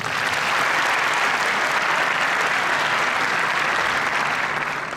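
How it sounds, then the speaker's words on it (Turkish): A large audience at a student scholarship event gives strong, sustained applause, a loud dense wash of clapping that holds steady for the full five seconds with no talk. "Sizden bu arkadaşlarım için kuvvetli bir alkış istiyorum"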